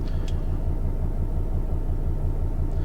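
Class 66 diesel locomotive braking in Train Sim 2020, a steady low engine rumble with continuous mechanical drone, two faint brief high squeals near the start and a trace at the end, no talking.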